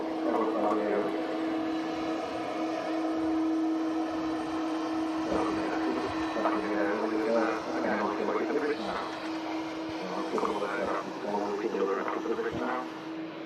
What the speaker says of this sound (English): CF6 engines as well, which are super loud